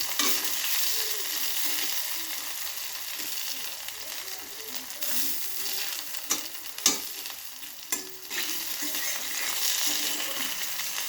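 Tengra fish, potato and eggplant pieces coated in salt and turmeric sizzle steadily in hot oil, with occasional clicks and scrapes as a small thin spatula flips them; loud, continuous frying throughout.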